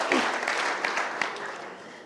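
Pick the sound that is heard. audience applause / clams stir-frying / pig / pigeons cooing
audience applause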